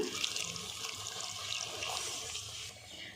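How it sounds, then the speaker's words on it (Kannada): Water splashing and pouring steadily into a cooking pot with boiled potatoes and chickpeas for a few seconds, a bright rushing sound that tapers off slightly at the end, no voices. "ಈಗ ಸ್ವಲ್ಪ ನೀರು ಹಾಕ್ತಾಯಿದ್ದೀನಿ."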